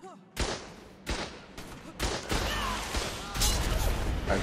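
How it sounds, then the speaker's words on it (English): Repeated explosive blasts and crashes from a destroyed turret in the survival video game Ark, several loud broadband bursts in quick succession over a dense rumbling game mix, with faint voices in the background. "I just blew our own turret up"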